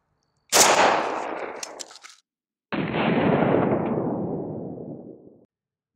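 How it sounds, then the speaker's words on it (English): A 16-inch AK fires 123 grain Red Army Standard rounds at an AR500 steel armor plate at close range, producing two loud, sharp shots, each trailing off into a long echoing decay. "We have some 123 grain Red Army Standard here and a 16-inch AK."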